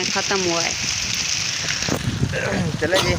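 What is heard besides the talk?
heavy rain falling outside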